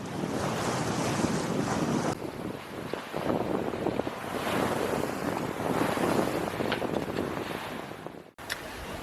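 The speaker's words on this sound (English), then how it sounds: "So finally the wind did come up." Wind gusting and waves washing against a sailboat under way off Greece, a steady broadband roar with heavy microphone buffeting throughout, briefly dropping out near the end.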